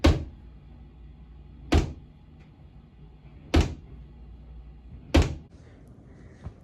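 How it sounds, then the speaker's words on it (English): A drawer is pushed shut and pulled open at home, giving four sharp wooden thumps spaced about every second and a half, each with a short rattling tail over a quiet room. "she'd rather open and close that drawer."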